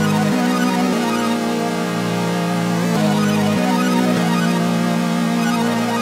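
A sparkly synth pad plays sustained chords as part of a hip-hop beat, processed with an RC20 mid-tone effect and the bass cut, loud and continuous with slow chord changes.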